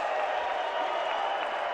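A live esports crowd in an arena at a PUBG tournament in Berlin roars and claps in a dense, steady wash of cheering that fills the whole moment.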